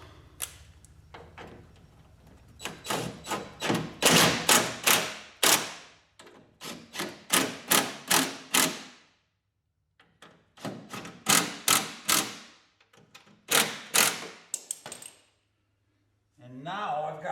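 Bolts are tightened on a 1967 Mustang window regulator rail, giving clustered runs of quick, close metallic clicks from a ratcheting tool, broken by short pauses and quiet handling sounds.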